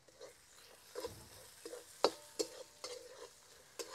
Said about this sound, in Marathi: आपला मसाला किती छान तेल सुटेपर्यंत परतून झालेला आहे.